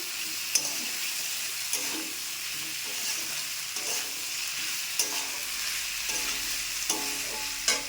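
Chicken pieces sizzle steadily in a hot pan while a spoon scrapes and stirs through them every second or so, producing a continuous loud frying hiss punctuated by soft rhythmic clinks, with no talking.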